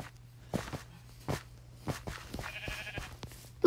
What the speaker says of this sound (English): Ooh, I kind of do need sheep.